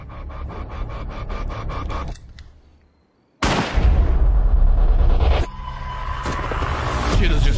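Gunshots in a 2018 drama film: after a quiet, music-backed stretch and a short silence, loud sharp bursts of gunfire erupt up close, followed by a second heavy blast.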